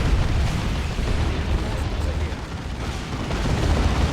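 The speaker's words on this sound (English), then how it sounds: "Tank Buster Barrage. Does not really hit anything." Tank Buster Barrage artillery strikes in Dawn of War 2, a match of Imperial Guard against Orks, as a dense, continuous rumble of explosions with no distinct separate blasts.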